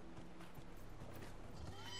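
Summoned horse trotting in Dragon Age Inquisition, soft rhythmic hoof clops with a brief whinny, faint and low under ambient game sound.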